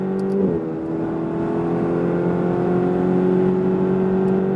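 A Ferrari engine pulls hard in a high gear on track at Issoire: a steady, loud droning engine note after a brief gear-change dip near the start, heard from inside the car with no voices.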